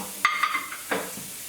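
Onions tip into a pan for a nut roast and start frying, a few sharp clattering stirs with a brief ringing scrape, then a soft sizzle, close and with no one talking.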